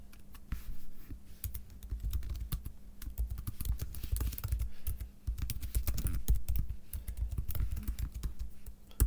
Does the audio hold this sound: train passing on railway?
no